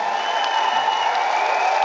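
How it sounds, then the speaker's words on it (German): A large audience applauding at a live concert in Bochum, a continuous wash of clapping and crowd noise that stays loud and even from start to finish. "Vielen Dank für euren Applaus."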